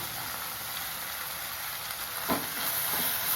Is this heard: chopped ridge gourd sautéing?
yes